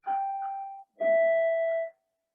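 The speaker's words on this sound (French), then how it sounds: "il y a une cloche qui va sonner" A school bell sounds twice, two clear sustained electronic tones with a short gap between them, loud and close, with no one talking over them.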